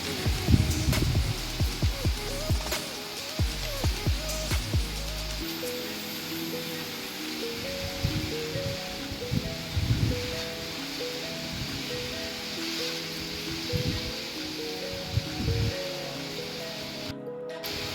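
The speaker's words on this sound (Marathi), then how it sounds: "काहीच वेळात इतका भयानक मुसळधार पाणी आला" Heavy torrential downpour, a dense steady hiss of rain pouring down with irregular louder splashes and thumps nearby, continuous throughout.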